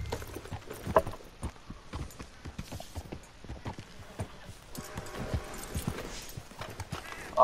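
Horse hooves clip-clop in a steady, fairly close rhythm through the Red Dead Redemption 2 video game, with a brief whinny, scattered game sounds and faint background chatter.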